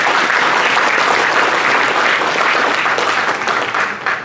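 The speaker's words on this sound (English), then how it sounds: "Please give a big round of applause." An audience at a Diwali cultural program in Panama City, Florida claps in loud, dense applause that stays steady throughout, then thins slightly near the end.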